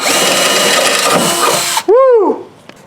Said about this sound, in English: We use a little bigger drill bit now